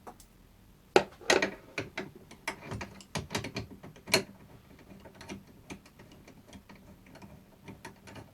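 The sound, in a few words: removing 10mm bolts from Honda NC750X seat with a ratchet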